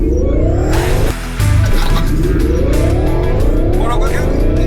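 A car accelerates hard as the accelerator pedal is pressed, its engine note climbing in repeated sweeping rises through the gears, loud and close from inside the cabin, with a brief lull before one shift.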